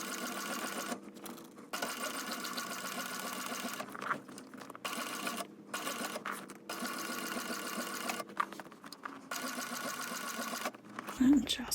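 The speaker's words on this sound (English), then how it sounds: "I feel like I'm not stitching straight," A sewing machine stitches binding onto a bag in long steady runs, its motor hum broken by several short pauses, with a brief thump near the end.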